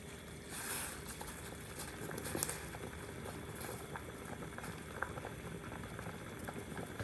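Water boils in a pot with a water bottle set into it, a soft continuous bubbling and popping patter, faint and close, with occasional small knocks.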